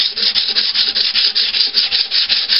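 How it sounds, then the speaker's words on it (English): Bondo body filler on an Iron Man helmet is sanded by hand, giving a loud, close, rhythmic scratchy rubbing with quick regular back-and-forth strokes and no voices. "This is only if you're hand sanding."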